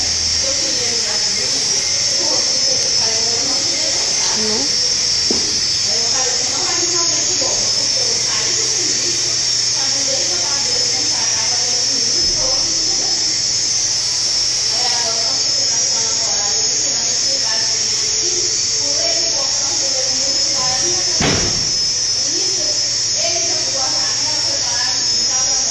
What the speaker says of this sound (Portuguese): Com esse barulho de secador.